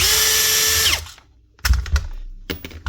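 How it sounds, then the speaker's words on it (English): A cheap Amazon cordless drill, a Makita copy with a slipping chuck, whirs loudly and steadily, then winds down to a stop. Clattering handling knocks and thumps follow. "Cheap Amazon drill. Can't tighten that chuck, because on the clutch mode it just loosens off."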